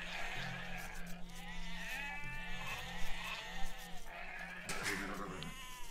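Sheep in the video game Age of Empires 2 bleat repeatedly, several wavering calls overlapping at a moderate distance over a low steady hum of game ambience.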